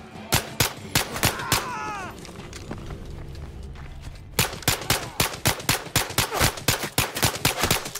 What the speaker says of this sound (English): That was my last shot.